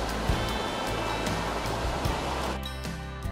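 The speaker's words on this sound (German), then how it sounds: "Die Isar führt zurzeit sehr viel Wasser." The Isar river in Munich runs high, a steady broad rush of flowing water heard up close and continuous, with faint background clatter and no speech.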